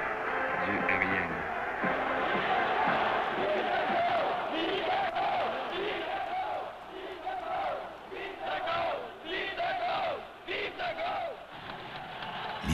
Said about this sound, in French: la foule donc s'est mise à huer l'hymne national